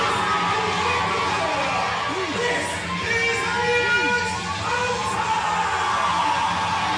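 At an SOS wrestling event, the crowd cheers and shouts as wrestler Elliot Hunter makes his entrance into a rumble. Children's shrieks and whoops ride over a steady roar of noise, with voices talking throughout.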